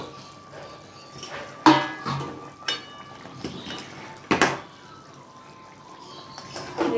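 A metal lid is lifted off a simmering pot of homemade chili chicken, giving two sharp clanks a few seconds apart over a low kitchen background, with smaller knocks and rattles in between.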